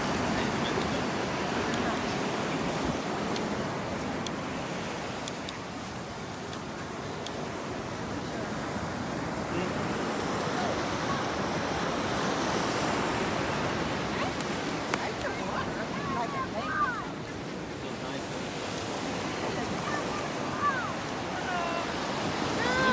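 Ocean waves roll onto a beach in a steady wash of surf, with wind buffeting the microphone throughout a long continuous stretch and no talk over it.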